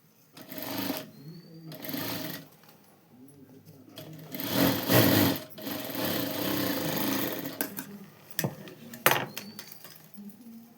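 A sewing machine stitches lining onto a sleeve in quick whirring bursts, pausing between runs, with light handling clatter in the gaps.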